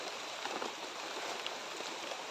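Steady rain pours down outdoors, a dense, even hiss with scattered droplet hits, quite faint and distant-sounding, with no voices over it.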